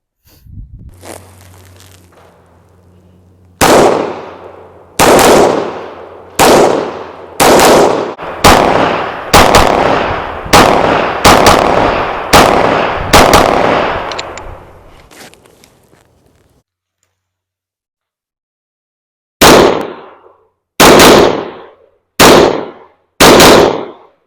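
An FN 545 MRD .45 ACP pistol fires a rapid string of about a dozen loud, sharp shots, then a short silence before four more evenly spaced reports, each crack sharp and reverberant outdoors.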